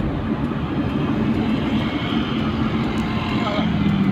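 An airplane near Hang Nadim airport in Batam, at night, gives a steady, broad roar that fills the whole stretch. People talk over it.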